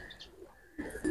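A Pakistani racing pigeon gives a short, soft coo, close and quiet, followed by a slightly louder burst of sound at the end.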